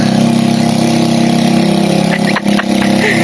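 Vehicle engine running steadily while driving on a trip to Yelagiri, a loud, constant mid-pitched drone close by with a short dip in the final second, no talk heard.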